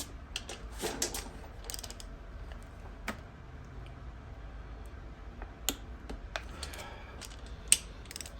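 A torque wrench tightening the front cylinder head bolts on a Harley-Davidson Street Glide, heard as a series of sparse, sharp ratchet clicks and metallic ticks at uneven intervals, close and fairly quiet, with no talking.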